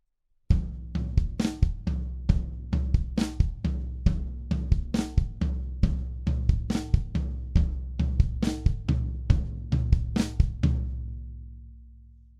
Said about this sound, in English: you actually bring that bad boy over to the snare drum so you can get a good,